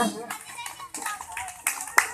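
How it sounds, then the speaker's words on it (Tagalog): Children clapping for the Lord at a church ministry gathering, bursts of close hand claps in uneven waves, mixed with young voices and an adult speaking. "Ang mga bata kumalakpak sa Panginoon."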